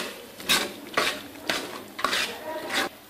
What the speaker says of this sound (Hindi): अदरक को कीमे के साथ अच्छे से भून लेंगे।